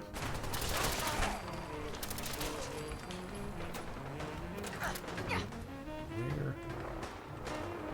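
Gunfire in Fallout 4 on survival mode crackles in rapid bursts and volleys over a busy background of roars and game noise, fairly loud throughout, with some talking mixed in.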